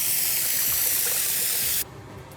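Cold tap water pours in a strong steady spray over boiled potatoes, a loud close rushing hiss that suddenly drops to a quieter trickle near the end.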